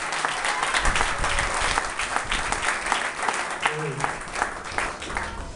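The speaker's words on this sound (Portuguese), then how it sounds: "Será que você pode aplaudir esse papai?" A church congregation applauding during a service, loud continuous clapping filling the room, with a few voices and shouts mixed in and a short tonal sound near the end.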